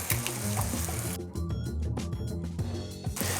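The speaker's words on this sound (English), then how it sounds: "We're gonna crack a couple eggs in here. And just fry those." Eggs crackling in an oil-filled pan during Pad Thai cooking, a steady close-up sizzle with a brief dip partway through, heard alone.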